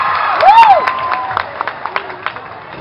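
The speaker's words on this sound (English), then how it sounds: "Let's give them a round of applause" A crowd at a Ginoong Leyte pageant event bursts into brief applause with whoops and cheering, loud at first and thinning into scattered claps after a couple of seconds.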